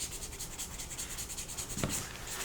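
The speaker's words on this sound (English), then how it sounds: "Got my little sanding file here" Steady close scraping and rubbing of a small sanding file on a Yokomo YZ4-SF2 4WD RC buggy part, a continuous abrasive rasp with one sharper knock near the end.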